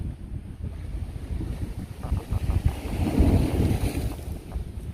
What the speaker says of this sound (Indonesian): Ombaknya gede banget guys.